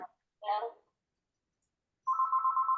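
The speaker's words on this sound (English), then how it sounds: "Sorry about the phone ring." Telephone ringing in a room during an online talk: a short electronic trill, a pause, then a sustained warbling ring, moderately loud, with no talk over it.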